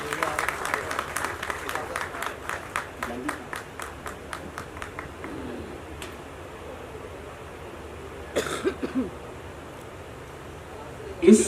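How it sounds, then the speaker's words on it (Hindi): An audience at a music video launch event claps in a burst of applause that thins out and fades, followed by scattered murmurs and a few later claps. "पुरजोर तालियों से इस्तकबाल करें दोस्तों"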